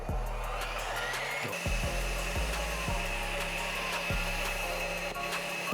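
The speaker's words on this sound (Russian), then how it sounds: "И взбиваем до твердых пиков." An electric mixer whipping cream toward stiff peaks runs with a steady motor whine, its beaters knocking and scraping the bowl in repeated bursts; no one speaks.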